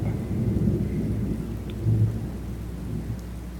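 A thunderstorm with steady rain hissing and pattering all around and a deep rolling rumble of thunder swelling partway through, loud and close with no voices.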